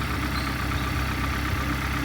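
A 2008 Hyundai Santro Xing car engine idles steadily up close, a continuous low rumble with a broadband hum that holds level throughout, with no voices over it.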